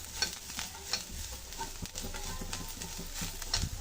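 Spices such as garam masala stir-fried in a pan for chickpea sundal prasadam, a soft steady sizzle under repeated spatula scrapes and clicks against the pan, close and moderately quiet.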